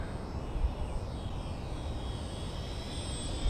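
A FliteTest Tiny Tutor RC model airplane with ailerons makes a touch and go in light breeze, its small electric motor giving a steady, moderately loud whine that lingers throughout without talk.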